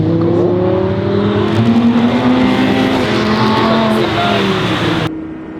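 A sports car engine screams as it accelerates hard on a track, the pitch climbing through the gears, loud and close, before cutting off abruptly.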